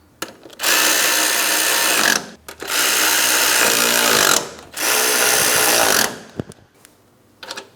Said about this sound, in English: we can tighten each one of our mounting nuts